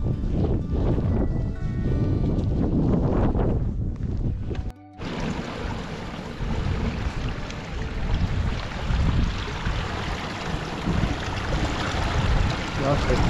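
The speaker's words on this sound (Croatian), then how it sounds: "Sad dolazimo do Pašinog vrela. Tu ću nasuti jednu flašicu vode" Water flows at the Pašino vrelo mountain spring on a hike; after a few seconds of rumbling handling noise, a steady close rushing of water runs on alone.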